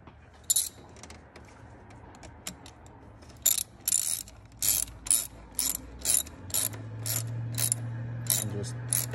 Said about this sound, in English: We're just gonna fit it and then tighten everything down.